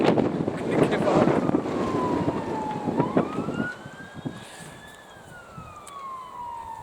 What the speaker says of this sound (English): This wind is crazy today, and now sirens.